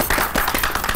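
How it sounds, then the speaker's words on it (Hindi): Quick, dense claps from a studio audience greet a tabla accompanist on an Eid special TV show, filling a brief burst at steady loudness. "तालियां होनी चाहिए।"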